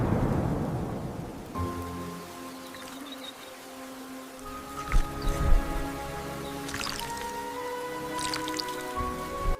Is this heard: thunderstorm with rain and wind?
yes